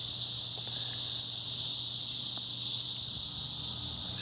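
Cicadas drone in late May around a small pollinator plot of milkweed, a steady, unbroken high-pitched buzzing chorus heard alone at moderate loudness throughout.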